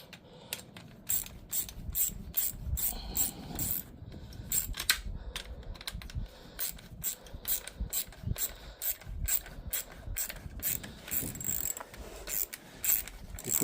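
A socket ratchet clicks in quick repeated bursts while tightening a clamp on a sprayer load pad, crisp and close with short pauses between strokes.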